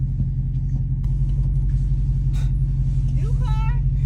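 Dodge Hellcat engine idling with a deep, steady low rumble close by, continuous throughout, with faint outdoor sounds and a brief rising tone near the end layered over it.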